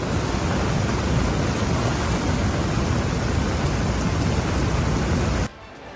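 Heavy monsoon rain over eastern India roars as a dense, loud, unbroken downpour, then cuts off abruptly near the end; no distinct thunderclap stands out.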